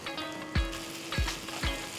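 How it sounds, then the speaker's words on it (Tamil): Loud, steady sizzling of chicken pieces frying in butter and oil with chopped garlic, with a few sharp pops and thumps of a utensil stirring the pan. "ஒரு பேனில் வெண்ணெய், எண்ணெய், நறுக்கின பூண்டு, ஊற வச்ச சிக்கன் பீசஸை சேர்த்து நல்லா ஃப்ரை பண்ணுங்கள்."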